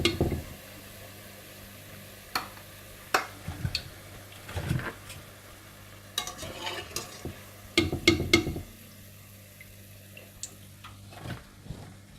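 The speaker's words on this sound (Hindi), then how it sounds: "इसी तरह से आप बाकी पकोड़े भी फ्राई करके निकाल लीजिएगा।" Spring onion pakoras fry in hot oil, with a low, steady sizzle broken by scattered clinks and scraping bursts as they are stirred and lifted out. No one speaks.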